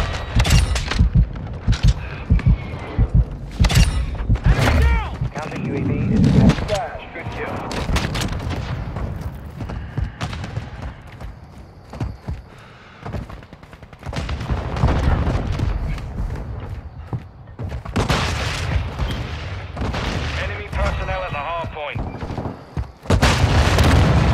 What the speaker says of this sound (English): airstrike ready for tasking.